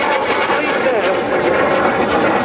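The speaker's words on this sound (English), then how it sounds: "Major Luca Campello with his Typhoon is ready to perform an important test." An Italian Air Force Eurofighter Typhoon flying a display at the Radom 2013 air show. A loud, continuous broadband jet roar fills the whole stretch, with a commentator's voice over it.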